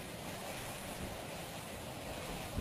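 Ocean waves wash continuously in a broad, even rush of surf, mixed with some wind buffeting on the microphone and no voices.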